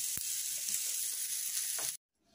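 Thammakaya fritters crackle and hiss steadily in hot oil in a pan, a loud, even sizzle that cuts off abruptly near the end, with a couple of faint clinks.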